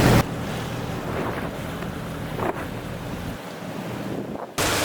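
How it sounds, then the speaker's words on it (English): A sailboat motors through rough ocean swells on an offshore passage, with constant wind buffeting and rushing waves over a low engine rumble; the sound is steady, briefly louder at the start and end, and no one speaks. "Pretty big swells out here. A little rough, but we are motoring."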